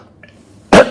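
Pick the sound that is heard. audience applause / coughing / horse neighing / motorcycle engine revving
coughing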